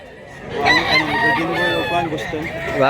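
A Golden Boy and Boston cross rooster crows once, loud and close, a drawn-out call lasting a couple of seconds at an outdoor fowl market.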